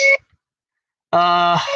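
A harmonic, horn-like West German steam locomotive whistle tone sounds briefly, cuts off, then returns for a longer blast after a silent pause, likely imitated by a voice.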